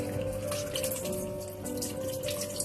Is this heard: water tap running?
yes